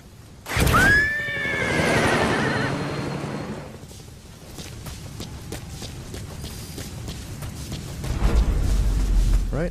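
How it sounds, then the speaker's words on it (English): A horse in the video game Metal Gear Solid V gives a loud, sharp whinny near the start, followed by a rumbling snort and the clip-clop of hooves fading away, with faint ambient noise after. "we'll go ahead and dismiss our horse"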